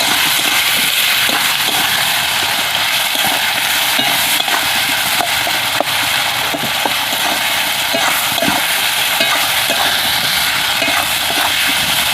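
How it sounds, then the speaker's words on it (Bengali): Turmeric powder, cumin powder and ground white mustard paste are sautéed in a pan on the stove, making a loud, constant sizzle with frequent light scrapes and clicks of stirring throughout. "ভালো করে কষিয়ে নেব"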